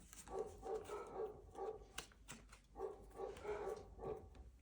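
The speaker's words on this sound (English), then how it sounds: "There go my puppy dogs." Dogs bark repeatedly in uneven bursts, a few voices overlapping, somewhat distant with steady background noise.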